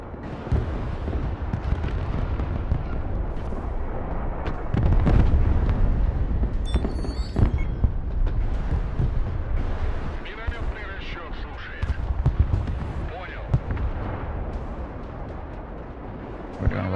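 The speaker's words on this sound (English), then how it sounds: "We're doing rockets here." Rocket artillery barrage in the Broken Arrow war game, heavy rumbling booms and launches rolling continuously under a dense battle din, with a voice talking over it.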